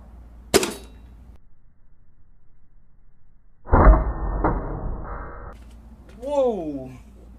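An air gun fires one sharp, loud shot of H&N Rabbit Magnum Power pellets, followed by quiet, then thumps and clatter, and finally a voice exclaiming.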